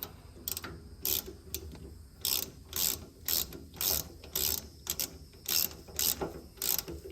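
A ratchet tightens a suspension adjuster on a car's rear end in quick bursts of sharp clicking, about a dozen short runs separated by brief pauses, close and clear with no talk.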